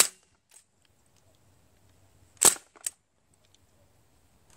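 A Sig Sauer MCX HPA-converted .177 air rifle fires 5.4 grain plastic-lead hybrid pellets, giving one sharp, loud crack followed by a smaller mechanical click, with near silence around it.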